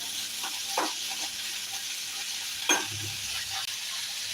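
Chickpea payasam bubbling in a pot while a spoon stirs it, a soft continuous simmering hiss with two brief scraping strokes, fairly quiet and with no voices.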